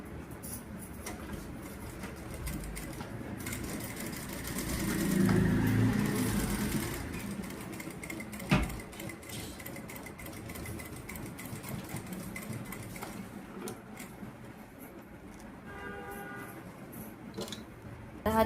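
A sewing machine stitches the fabric pieces of a baby girl's bunny-style cap in a steady, low mechanical whir, running continuously at moderate level with a brief louder surge partway through.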